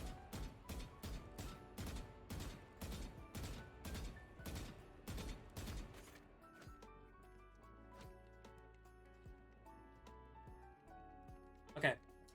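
Rapid bursts of video-game gunfire on an aim-training practice range, a fast regular string of sharp shots for about six seconds, then scattered quieter single shots and one louder crack near the end, with a voice talking underneath.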